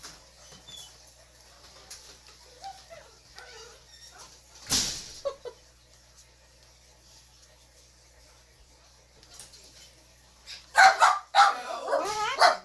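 A dog barks and yips in a home where fluid art is being poured, a quiet stretch broken by one sharp bark, then a loud close burst of several yips and barks near the end.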